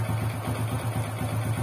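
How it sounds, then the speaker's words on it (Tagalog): A Honda XRM125 motorcycle engine with an abnormal engine noise idles close by with a low, steady, rhythmic chug and a slight uneven knock, no voices. "Hindi mo maintindihan kung saan ang gagaling yung ingay ng makina."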